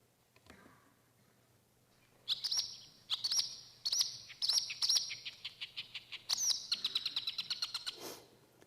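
A lone marsh warbler sings a rapid series of high, sharp chirps and buzzy trills in quick bursts, mimicking yellow wagtail and linnet, clear and fairly close against a quiet background.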